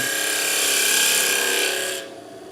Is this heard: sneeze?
no